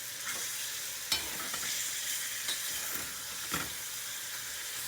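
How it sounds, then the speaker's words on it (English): Close, soft sizzle of tomato paste and sofrito cooking in a pot, with a spoon scraping and stirring in a few irregular strokes over a steady hiss. "So I'm just going to stir this around."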